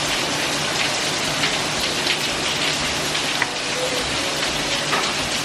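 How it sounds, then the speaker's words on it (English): Heavy rain pours steadily in Lagos, Nigeria, a dense even hiss of drops drumming on surfaces, with no voices and no breaks. "It's raining seriously"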